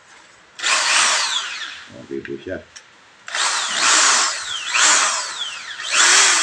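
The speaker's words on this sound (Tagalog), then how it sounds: "Gumana po ang barena." A power impact drill in hammer mode whines loudly in long bursts, pausing briefly while a voice speaks, then revving again with a grinding, buzzing tone up close.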